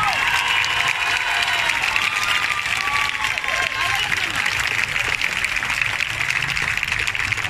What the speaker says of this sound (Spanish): Díganlo con un fuerte aplauso